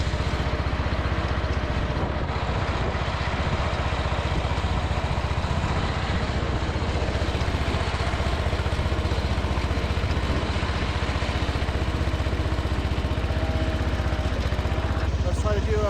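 An MTD 990 lawn tractor engine runs continuously after its first start-up, producing a steady, moderately loud mechanical drone without breaks, and a voice may be faintly present beneath it.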